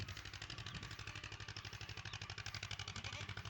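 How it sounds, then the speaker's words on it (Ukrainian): A tractor engine runs steadily nearby in a field where potatoes are being planted, its low throbbing pulses repeating in a fast, even rhythm, with no talking. "Щось гудить, так? Да? Не бійся. Це трактор."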